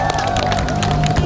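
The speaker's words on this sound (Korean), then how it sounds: "다시 한번 박수 보내주십시오" A crowd at a campaign rally for Kim Jin-pyo's Gyeonggi governor run claps and cheers loudly, a dense burst of applause with a voice over the top.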